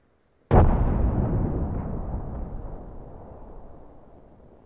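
A single loud frag grenade detonation in Apex Legends bursts suddenly, then rolls into a long rumbling decay that fades over several seconds, with no voices.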